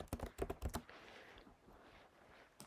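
A short burst of computer keyboard typing is heard up close, with several quick keystrokes at the start followed by quiet room tone.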